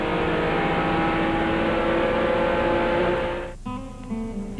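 Mark Martin's Busch Series stock car roars in a steady high drone from onboard at Darlington during a 1994 race, then the engine note cuts abruptly and resumes lower and choppier near the end.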